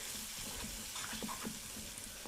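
Water is poured into semolina batter cooking in a pan, making a steady, close splashing pour with no talking.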